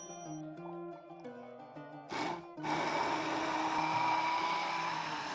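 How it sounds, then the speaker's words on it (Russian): A blender purees hummus made from chickpeas and cumin until creamy: soft tonal music plays first, then a short burst gives way to a steady, close, whirring motor drone that lasts to the end. "Перебиваем блендером до кремообразного состояния."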